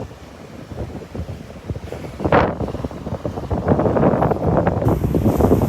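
Brisk wind buffeting across a beach at Delnor-Wiggins, a rough, gusty rumble that swells and grows stronger toward the end, with faint surf underneath.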